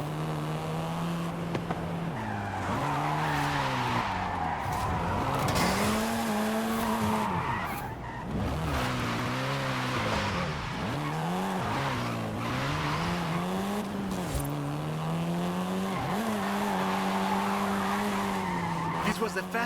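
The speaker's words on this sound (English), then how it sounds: "This version is the Volkswagen Golf R," A Volkswagen Golf R (7th generation) races in the Forza Horizon 5 video game, its engine revving up and down continuously while the tyres skid and squeal repeatedly, loud and close throughout.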